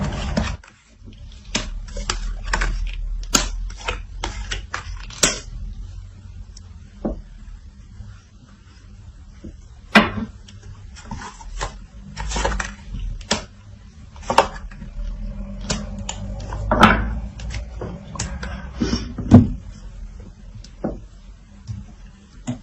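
Tarot cards shuffled by hand on a table: irregular soft flicks, slaps and taps, some in quick clusters, close and fairly quiet, without talk.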